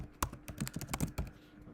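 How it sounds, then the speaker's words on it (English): Quick keystrokes on a computer keyboard as a company name is typed into a search bar, a close, uneven run of about a dozen sharp clicks with no talk. "type in Judo Bank, I find the company in the search bar."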